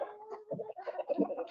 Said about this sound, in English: There are my chickens.